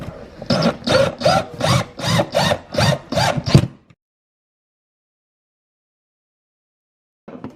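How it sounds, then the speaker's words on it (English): A power drill drives a screw in seven quick, evenly spaced bursts, fastening a USB receptacle into an electrical box, then falls silent. "Grab a drill, whatever you got, and screw the device back into the box."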